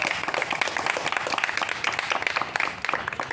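Audience applause at a patriotic song event, a steady dense wash of many hands clapping at moderate loudness throughout, continuous without pauses.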